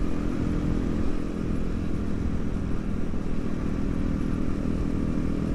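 Steady engine roar of about 30 to 50 motorcycles, including a Kawasaki supermoto, riding together, a continuous droning rumble with wind noise, no talking.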